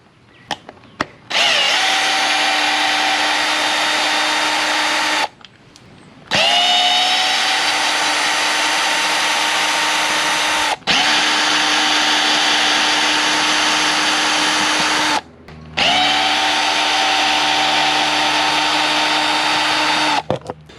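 A power tool unscrews 7mm bolts from the top of a 2008 Mercury 115 four-stroke EFI outboard engine, with three loud, close whirring bursts of several seconds each separated by short pauses.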